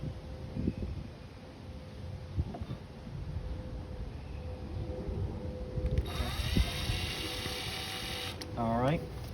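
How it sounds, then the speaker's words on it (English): A power drill backs rusted screws out of an old Gamewell fire alarm box, a high whirring burst in the second half that rises and falls, following quieter handling and scraping noises, close by. "I'm going to be using my power drill to get out a couple of them"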